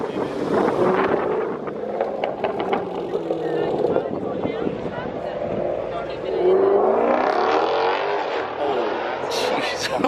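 A Jeep SRT Trackhawk engine revs and roars past at a large East Coast car meet, rising and falling under wind buffeting on the microphone, with people talking nearby.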